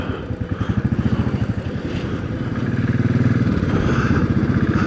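A Royal Enfield Classic 500 motorcycle riding along, its engine a steady loud thumping pulse throughout, with rhythm quickening slightly toward the end.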